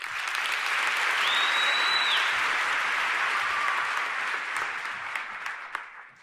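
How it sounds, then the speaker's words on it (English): An audience at a university fashion show gives a loud, sustained round of applause for a composer, steady dense clapping that thins out and fades near the end. "We would also like to give a round of applause to Nicholas Hadfield"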